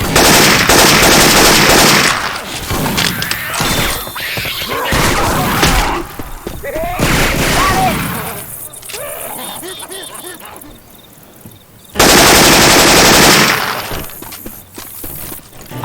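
Rapid automatic weapon fire from Syphon Filter sound effects inside a Left 4 Dead 2 match, loud sustained bursts broken by a quieter gap with game noise and brief voices, then another heavy burst.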